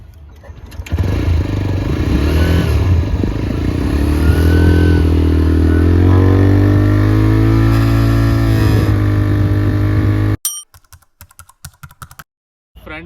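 A 2024 TVS Raider 125 motorcycle engine idles and then revs up and down for several seconds, its exhaust loud and close, before cutting off abruptly into scattered clicks.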